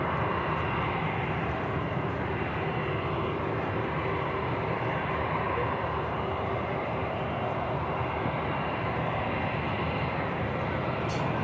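A British Airways shuttle jet bound for London Heathrow taxis out toward runway 05 left at Manchester Airport, heard as a steady, distant engine rumble and whine with broad outdoor noise and no voices.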